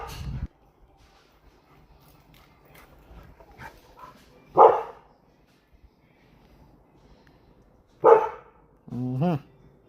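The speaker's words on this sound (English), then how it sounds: "but you just want to come out and bark, huh?" A dog barks outside in a yard, a few loud separate barks spaced seconds apart with a whining yelp at the end, set against quiet surroundings with faint background sounds.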